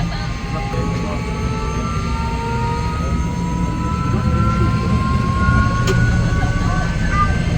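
A helicopter flies on a tour over the Lauterbrunnen valley in Switzerland. Its engine and rotors make a loud, close, continuous droning hum with a steady pitch throughout.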